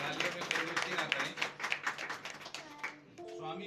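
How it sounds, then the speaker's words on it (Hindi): An audience claps loudly and steadily for someone speaker at a women's support NGO gathering, a dense burst of applause that fades out near the end, with a voice speaking underneath. "रितु मैम के लिए जोरदार तालियां बजाइए"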